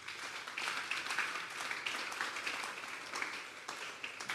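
A congregation at a Sunday church service applauding: continuous, even clapping from many hands, moderately distant and sustained for the whole stretch.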